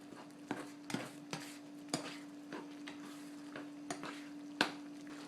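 Homemade taco seasoning being stirred into meat in a pan on the stove, a steady low hum beneath a series of sharp spoon scrapes and clinks against the pan, spaced irregularly, with faint sizzling.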